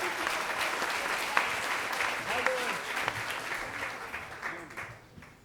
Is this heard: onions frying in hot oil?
no